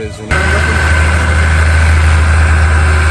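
A tractor engine idles steadily and loudly close by at a Christmas tree and pumpkin farm, with a deep low throb and constant hum, starting abruptly after a brief quieter moment.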